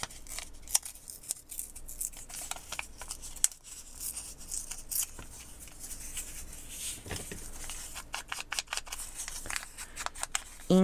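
Paper edges being ripped and torn while making a junk journal, a close crisp crackle of tearing and rustling in bursts, busier toward the end, with no voice over it.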